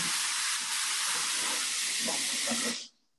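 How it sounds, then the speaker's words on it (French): A steam cleaner purges dry steam in a loud, continuous close hiss that holds steady for nearly three seconds, then cuts off abruptly into quiet. "Je vais à nouveau purger parce qu'il faut vraiment être en vapeur sèche pour le velours."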